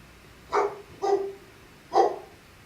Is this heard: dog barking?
yes